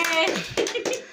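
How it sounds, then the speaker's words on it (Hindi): A small group of people, children among them, claps hands in a few quick bursts, close by and mixed with excited voices. "तालियां बजाओ सारे।"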